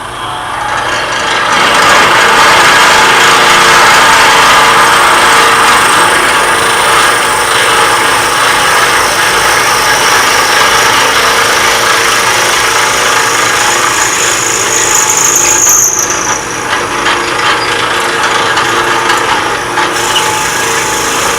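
A 1/2 inch drill bit boring a hole in steel rod stock while a round skew chisel is being made, a loud close, steady grinding whir lasting throughout, with no talking.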